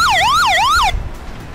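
A loud wailing police siren from a video game sweeps rapidly up and down in pitch for about a second, then cuts off abruptly, leaving a low rumble.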